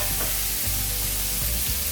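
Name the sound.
ribeye steak searing in a hot cast iron skillet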